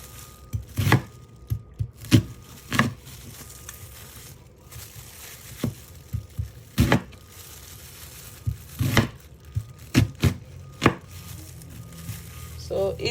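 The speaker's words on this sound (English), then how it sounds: "Same way, you just cut the onions." Onions being chopped with a knife on a board for beef stock, a series of crisp close thuds in uneven bursts, some quick runs of cuts separated by pauses, no voices.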